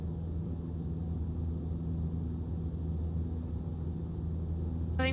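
Airplane engine in a flight simulator game during a slow-speed crosswind landing approach at Saba, a steady low droning hum that holds evenly throughout, with a brief rising whine at the very end.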